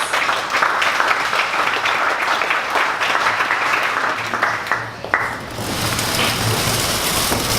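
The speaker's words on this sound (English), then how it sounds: "Please everyone stand up, big round of applause for Sachin from EZLytix." Dense crowd applause at a 1 Million Cups startup presentation event, steady and loud, with many overlapping claps that thin out toward the end before a brief quieter stretch.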